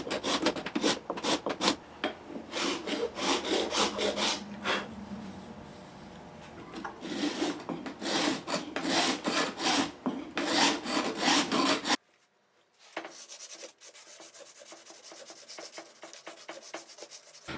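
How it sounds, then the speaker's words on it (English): A file rasps back and forth along the fret edges of the neck of an 1830s–1930s Charles Bruno guitar during restoration, in repeated close scraping strokes for about twelve seconds, followed by a quieter, hissy stretch. "I also take the time now to edge dress the frets"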